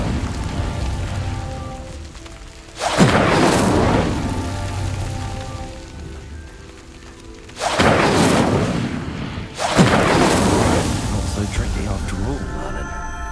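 Incendiary blasts in a video game: three heavy, roaring explosions, each trailing off into a crackling rumble, with voices underneath.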